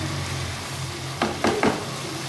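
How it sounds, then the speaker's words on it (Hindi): Masala spices frying (bhuna) in a pan for Lahori anda chana: a steady close sizzle, then three quick scraping stirs of a spoon against the pan near the end. "मसाले की मैंने बुनाई कर लिया।"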